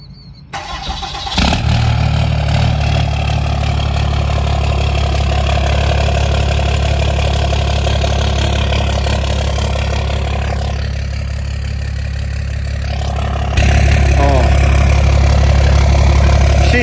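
A loud, rumbling pickup truck engine with an S400 turbo idles steadily up close, with a brief rev near the start and a deeper, heavier throb toward the end.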